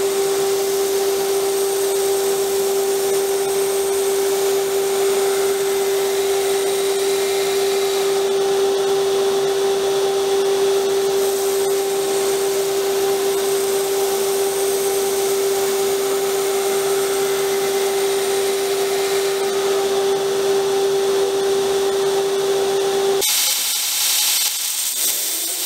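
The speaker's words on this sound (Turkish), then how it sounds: "Ardından bant zımparada ağız açma işlemini tamamlıyoruz." A belt sander grinds the edge of an N690 steel knife blade in a steady, loud whine with a strong constant pitch, running continuously for over twenty seconds before abruptly cutting off, with no voices.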